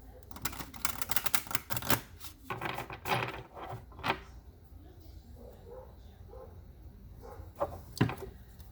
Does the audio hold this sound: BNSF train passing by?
no